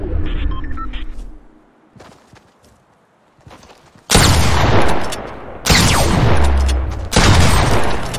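Gunfire in the video game Fortnite: three loud, close shotgun-like blasts in quick succession, each with a sharp attack and short decay, preceded by quieter in-game movement and footsteps.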